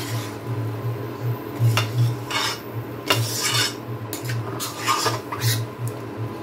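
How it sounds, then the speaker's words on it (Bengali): A spoon stirs sugar into sabudana khichdi in a metal pan, giving repeated scraping and clinking strokes against the pan, fairly close, with a low hum running underneath and no talking. "এখন চিনিটাকে খুব ভালো করে মিশিয়ে দেব।"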